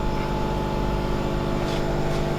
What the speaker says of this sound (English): I think I can hear the air assist and probably the exhaust tube